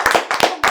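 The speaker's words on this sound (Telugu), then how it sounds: "క్లాప్స్ కొట్టండి రా." People clapping on the set of a Telugu chat show, with three quick, sharp claps in close succession, loud and near, with no talk over them.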